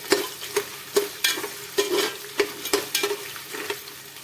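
Peanuts and potatoes fry in a pan for veg biryani, giving a steady crackling sizzle. Nearby, a spatula strikes and scrapes the pan in sharp, regular knocks about every half second.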